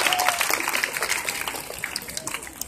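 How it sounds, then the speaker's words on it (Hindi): An audience at a fuel-conservation event claps briefly after a correct quiz answer, a moderate patter of applause at middle distance, fairly even and fading slightly near the end. "ताली बजाओ इसका."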